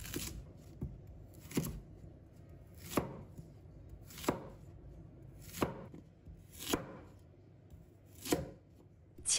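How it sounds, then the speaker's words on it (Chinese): A knife cuts peeled sweet potato into chunks on a board, giving seven or eight crisp, evenly spaced chops about a second apart, close and clear with a faint background hum. "全部削好后，把它切滚刀块。"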